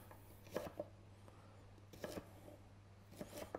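A knife cuts asparagus into small diamond-shaped pieces on a board, giving three soft clusters of quiet chopping taps spaced about 1.5 seconds apart over a low steady hum.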